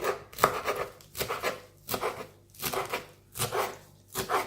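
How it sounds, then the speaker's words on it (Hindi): A knife chops coriander finely on a board with quick, rhythmic taps in short clustered bursts, close and clear with no talk. "अब ये जो धनिया था इसको ऐसे बारीक चॉप करेंगे"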